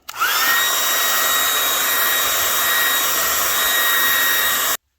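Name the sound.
hair dryer heating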